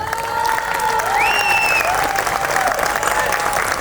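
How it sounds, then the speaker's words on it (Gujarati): Sustained audience applause at a sangeet night, a dense steady wash of clapping hands with some voices and a few whistle-like tones rising through the crowd. "બંને હાથ ઉપર કરીને એકવાર તાળીઓ આમના માટે"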